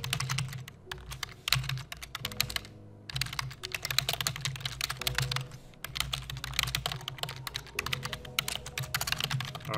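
Fingers type an email on a computer keyboard in a quiet room, with rapid, irregular clacking keystrokes in close bursts and a couple of brief pauses.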